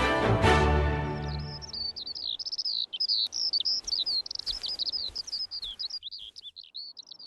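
Rapid, high-pitched tern calls chatter continuously after a brief low rumble, sharp and scratchy, coming from several birds nearby on a British shingle shore.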